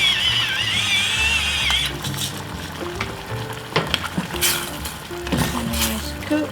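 Wonton noodle sauce thickened with cornstarch is stirred in a hot pan: a loud, steady sizzle with scraping of a utensil against the pan, with intermittent knocks and clinks.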